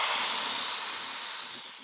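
A batter-dipped branding iron plunges into very hot, high-grade olive oil for a Castilian Holy Week dessert, giving a loud, steady, steamy hiss that slowly fades over a couple of seconds, with no talk.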